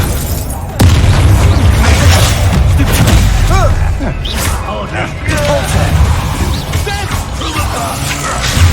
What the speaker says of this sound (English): That's the Expelliarmus.